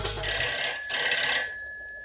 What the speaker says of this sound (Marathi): अंगावर हळद चढते आणि तेवढ्यात घरचा फोन वाजतो